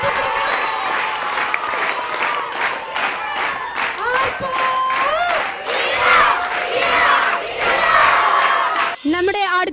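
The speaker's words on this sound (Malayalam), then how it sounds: "എല്ലാവരും ഒന്ന് കൈയടിച്ച്." A crowd at an Onam celebration claps loudly and cheers, with children shouting and whooping over dense applause throughout, and a brief burst of speech at the very end.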